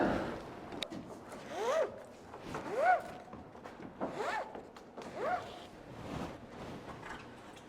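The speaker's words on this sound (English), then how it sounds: "Now I can undo the ratchet strap." A ratchet strap is worked loose in a series of four or five rasping, zipping pulls spaced about a second apart, close by and moderately loud, with no speech.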